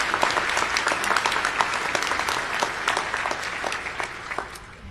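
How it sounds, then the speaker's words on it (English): Sustained applause from a large audience at a White Coat Ceremony for a graduating DO medical class, many hands clapping in a loud, steady, crackling wash that carries evenly throughout. "Please give yourselves another well-deserved round of applause"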